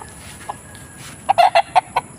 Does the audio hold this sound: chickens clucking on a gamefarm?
yes